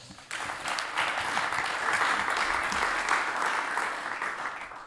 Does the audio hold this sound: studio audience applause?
yes